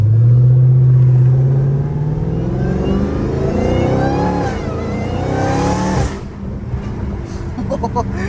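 A Dodge Challenger Hellcat Redeye engine with aftermarket exhaust revs and accelerates with a deep, throaty exhaust rumble, rising in pitch; talk can be heard over it.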